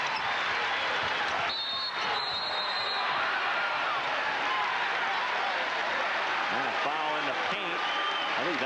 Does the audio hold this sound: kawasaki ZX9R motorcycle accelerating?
no